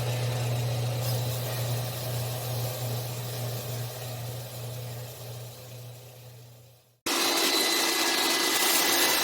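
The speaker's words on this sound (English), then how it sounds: "I go over to the wire wheel and brush all that off" A wire wheel brushes rust off a steel arbor press part in a workshop, a steady whirring grind with a low motor hum that fades out, then a brief cut to a louder, brighter hiss of abrasive brushing.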